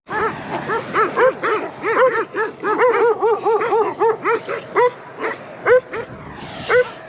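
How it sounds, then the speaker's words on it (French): Dogs bark near the border between Azerbaijan and Georgia, a close, loud run of repeated yelping barks in an uneven rhythm, with short pauses between them and a few whimpers. "C'est le retour des chiens les amis"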